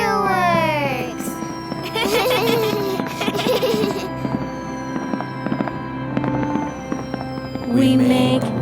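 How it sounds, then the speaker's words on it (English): Fireworks burst and crackle continuously in a loud, dense display, with whistling rising trails, sharp pops and rolling booms. A child's laughter and excited voices mix in. "Fabulous fireworks!"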